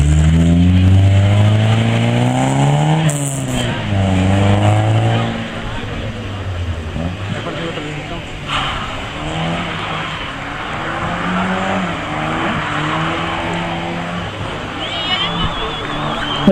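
An Opel Ascona B rally car on a year-end slalom rally course revs hard close by, its engine note climbing and dropping through repeated gear changes, then fading into softer motor noise and faint background sound.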